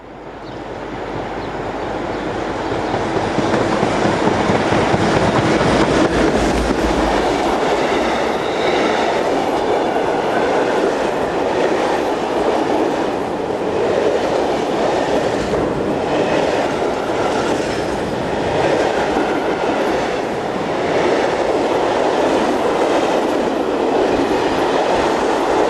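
A CFL Class 3600 electric locomotive, number 3602, hauls a train heading east, a loud sustained roll of wheels with rhythmic clickety-clack and faint squeal, building up in the first seconds and then holding steady close by.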